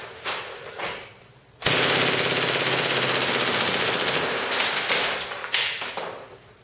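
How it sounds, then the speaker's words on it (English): A KWA MP7A1 gas airsoft gun fires full auto in cold weather: after a few faint clicks, a loud, close, rapid burst rattles on for about five seconds until the magazine empties, ending with sharp final shots. "Not a single problem emptying that mag on full auto."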